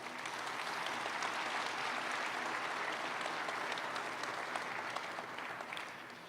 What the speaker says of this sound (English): Please give them and all the airline employees in the audience today a big round of applause.